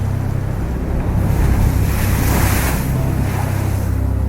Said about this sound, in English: And already we have like mast and a half high waves. Got like 50 knot gusts.